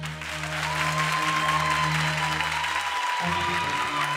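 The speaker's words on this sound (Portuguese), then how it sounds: "Os aplausos do auditório para a dupla número 7" A TV studio audience applauds for twin pair number seven in a lookalike-twins segment. Steady broadband clapping runs throughout, with sustained music tones beneath it and a brief shift near the end.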